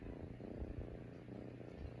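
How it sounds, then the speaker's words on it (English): A pet cat purrs close up with a steady, low rumble that pulses gently and continues throughout, with no voices. "he won't stop purring"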